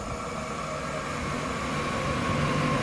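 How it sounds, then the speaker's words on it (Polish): A second-generation Impuls Intercity train passes through Jaworzno Szczakowa station without stopping, a steady loud rumble and rail roar holding at high level throughout, building slightly toward the end. "Jest to impuls drugiej generacji. Przelot Intercity."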